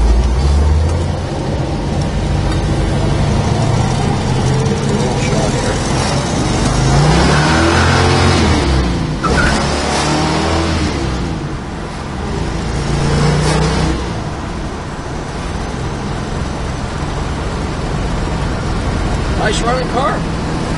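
An all-original, fully restored 1970 Plymouth Cuda with a six-pack engine rumbles loudly while driving, a steady close engine note with brief swells of revving, and someone talks over it.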